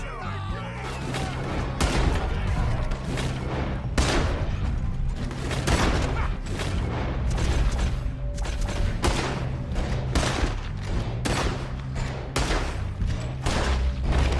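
A shootout in the video game Red Dead Redemption 2 brings a steady barrage of close, loud gunshots, many overlapping, with a constant low rumble underneath.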